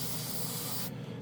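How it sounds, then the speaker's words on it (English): A Dspiae airbrush sprays paint in a close, steady hiss that cuts off sharply near the end of the short burst. "I just want to see how it sprays my paint"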